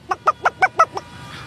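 A voice imitates a hen clucking with six short, evenly spaced clucks, close and clear, fading on the last one.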